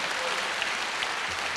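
An audience at a public lecture at Unpar university claps in a dense, steady burst of applause. The sound is broad and even, with many hands together, and lasts through the short moment.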